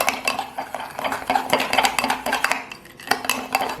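Spoon stirring milk, cocoa powder and sugar together in a pan, off the heat, with dense rapid clinks and scrapes against the metal, close and steady throughout with no talking.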